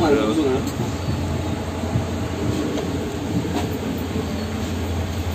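An empty passenger train on the Mumbai to Ajmer route runs on the rails with a continuous rumbling roar and faint clicking, loud and close throughout, with a brief squeal near the start.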